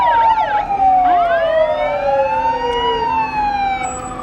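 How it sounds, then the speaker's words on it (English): An old Guymon Fire Department fire truck sounds its siren in the 2018 Pioneer Days Parade, a loud, close mechanical wail that swoops up and down before settling into a long sustained tone. "Have you noticed the older the truck is, the louder the siren?"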